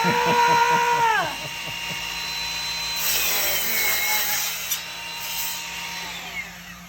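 Power miter saw cutting wood during a framing job: a high motor whine winds down over the first second, then faint rubbing and handling noises follow with a low hum under it.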